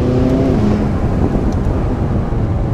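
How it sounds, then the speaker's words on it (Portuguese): McLaren 570S with a twin-turbo V8 accelerating hard, a loud, deep engine roar rising with audible turbo whine and an open exhaust, continuous and close with no talking. "além do motor V8, que você ouve muito bem, você ouve as turbinas também trabalhando."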